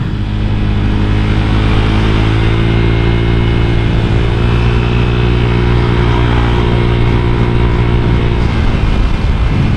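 A motorcycle with a BRT 63mm engine holds a loud, sustained high-throttle drone with strong steady harmonics, close and unbroken throughout.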